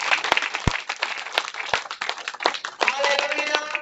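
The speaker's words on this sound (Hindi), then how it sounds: "ताली बजाकर जोर से।" A church congregation claps loudly during a Hindi-language sermon, with a dense mix of many hands, a few sharp close claps standing out, and some voices calling out over the applause.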